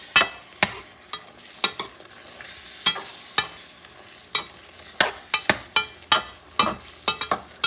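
Chicken and pork asopao being stirred in a pot, a spoon scraping and knocking in repeated sharp strokes at an uneven rhythm over a soft background sizzle, close and fairly loud, with no talking.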